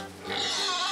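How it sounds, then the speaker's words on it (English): A pig oinks, one grunting call that swells after a quiet start and holds loud to the end, close by. "Yes, three little pigs."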